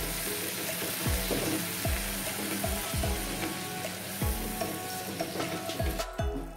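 Tomato puree stirred into masala in a pan for baingan masala, with a soft continuous sizzle and several thudding spoon strokes against the pan, moderately quiet and without talk.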